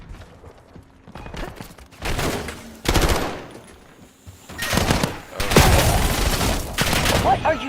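Gunfire in the video game Call of Duty Warzone: bursts of rapid automatic shots and loud blasts arrive in clusters, heavy and close, with quieter gaps between volleys and some game voice mixed in.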